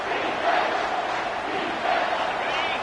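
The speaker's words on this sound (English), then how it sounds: "This crowd knows they have to bring it in big moments, and one of those has arrived." A football stadium crowd at Cal roars in a loud, sustained wash of cheering that swells slightly twice and never drops away.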